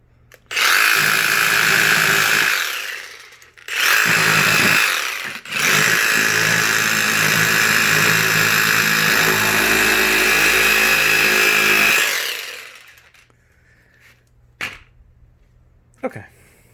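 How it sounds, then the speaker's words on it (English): Kobalt XTR one-handed cordless reciprocating saw run in bursts, a loud buzzing motor whine starting and stopping three times before falling quiet with a few clicks. "the reigning king of reciprocating saws, the one-handed Cobalt Sawzall"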